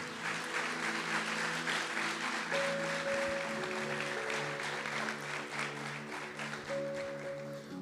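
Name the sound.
congregation applause in church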